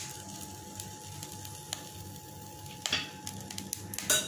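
Dalda ghee heating in a hot pan, giving a steady soft sizzle with faint crackles and a few sharper pops near the end.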